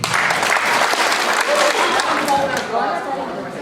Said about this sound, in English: Okay, hold your applause.